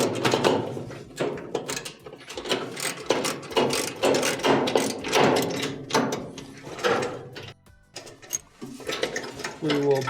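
Ratcheting clicks and metallic mechanism noises as a 10mm bolt is broken loose and removed from the idler pulley assembly at the bottom of a clothes dryer, close and busy, with talk over it.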